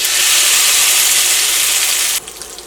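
Loud, steady sizzling hiss of crushed spices frying in hot coconut oil after mustard seeds have popped, which drops abruptly to a quieter crackle near the end.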